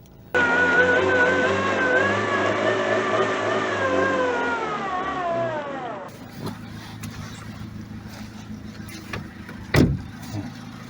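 Lada Forza front-wheel-drive car's mid-pitched engine rising steadily under acceleration for about six seconds, then dropping off into rough road and cabin noise with a sharp thump, voices talking over the car.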